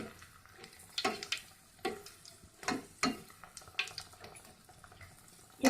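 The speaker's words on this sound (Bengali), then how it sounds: "শুকনো লঙ্কাটা অল্প ভেজে নেব।" Dry red chillies with black cumin seeds frying briefly in oil, giving soft crackles and sharp pops at irregular intervals over a faint background sizzle.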